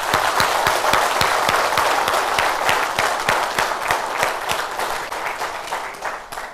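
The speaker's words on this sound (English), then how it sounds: "I want to hear a thunderous applause out here" An audience breaks into thunderous applause at a Derby Jeans community session, a loud, steady burst of many hands clapping that gradually eases toward the end.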